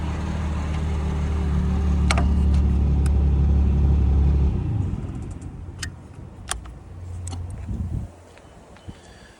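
A 2007 Freightliner M2 crane truck with 242k miles runs with its idle raised, giving a loud low rumble that drops off about halfway through. Scattered clanks and clicks follow over a quieter engine hum.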